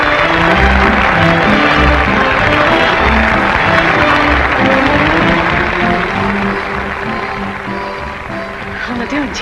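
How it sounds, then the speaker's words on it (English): An audience applauds at a dinner venue, steady dense clapping that carries on for several seconds, loud and close, then thins slightly toward the end. "That noise is applause, isn't it?"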